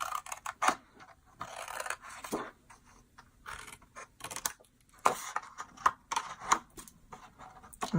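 Scissors cut a heart-shaped box for marshmallows: close, quiet snips and rustling paper come in irregular bursts, with short pauses between cuts.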